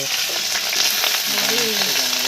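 Cauliflower bubbling and sizzling in a pan on a rooftop, a loud, close, continuous frying hiss with a brief faint voice-like tone near the end.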